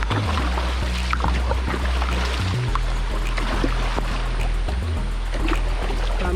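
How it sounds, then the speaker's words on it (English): A boat is paddled upstream on moving water during lifesaver training, with steady splashing and water rush over a continuous low rumble, close and fairly loud throughout. "Paddle upstream a little bit."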